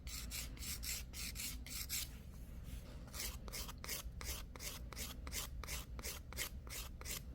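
A file rasps over a nail extension on a curved nail near the cuticle line. Quick, even back-and-forth strokes come close up, with a short pause before the regular scraping picks up again.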